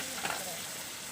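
Ingredients for a prawn curry sautéing in a pan, giving a soft, steady sizzle with faint stirring, quiet and close, with no talking.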